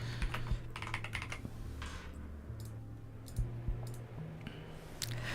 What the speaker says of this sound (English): let's just start typing in what each one is telling us